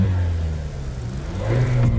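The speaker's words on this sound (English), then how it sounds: "the 2021 Mazda 3 Turbo" A 2021 Mazda 3 Turbo with a Skyactiv-G dynamic pressure turbo engine revs up, a steady mid-pitched engine drone that climbs and grows slightly louder toward the end.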